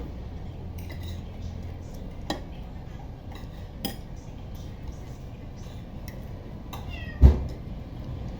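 A cat meows a few times at a shared home meal, faint and mid-distance, amid clinks of cutlery and dishes, with one sharper knock near the end.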